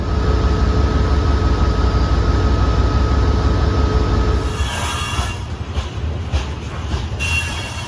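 At the Spokane station, an Amtrak Empire Builder train rumbles loudly with a low, steady drone and a thin high whine, then the roar eases and sharp squeals and clanks of metal break through.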